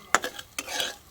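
Coriander and cumin seeds with dals being roasted in a pan: a few light scraping stirs and soft clinks of a spoon against the pan, with a faint sizzle, close and quiet.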